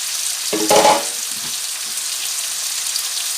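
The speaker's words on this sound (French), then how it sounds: "je vais incorporer les ndaka là et commencer à les faire sauter" Small fish (ndakala) sauté in a frying pan, opening with a brief loud burst of sizzling as they hit the hot oil, then settling into a steady hiss.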